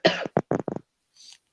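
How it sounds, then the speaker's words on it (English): A few short coughs in quick succession, close and fairly loud, followed after a pause by a faint hiss. "Try not to cough too much."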